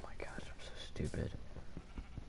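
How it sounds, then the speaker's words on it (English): A sheep bleats in the video game Minecraft during a speedrun, with several short wavering bleats heard under quiet, whispery talk and steady background noise. "Oh, thank goodness, sheep."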